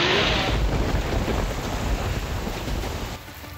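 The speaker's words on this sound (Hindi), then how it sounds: "तूफानी बारिश और बिजली की कड़क" Heavy stormy rain with thunder in Pakistan, a loud, continuous broadband roar with rumbling that eases slightly toward the end, with no talking.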